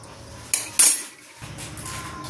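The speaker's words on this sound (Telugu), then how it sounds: "ఇప్పుడే తరుగుతూ ఉన్నాను క్యారెట్" A knife chopping carrots on a board, two close, sharp clacks in quick succession followed by quieter handling sounds.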